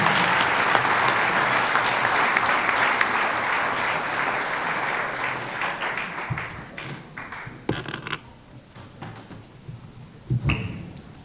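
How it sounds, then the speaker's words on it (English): Audience at a high school fall sports banquet claps in a loud sustained round that thins into scattered individual claps and fades toward the end. "And if we can get one more round of applause for varsity boys."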